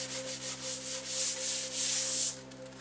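Sandpaper scrubs back and forth over a varnished countertop in a quick rhythmic series of close rasping strokes, a few seconds long with no voices.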